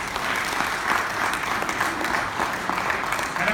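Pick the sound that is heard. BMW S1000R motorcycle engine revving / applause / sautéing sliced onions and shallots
applause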